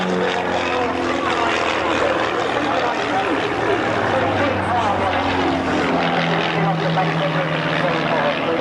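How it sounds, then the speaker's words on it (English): A propeller aircraft drones past at the 1991 RAF Valley air show on Anglesey, a loud, steady engine and airscrew hum with a slowly shifting pitch, while a commentator's voice carries over the public address. "So now, the aircraft will flying to our right."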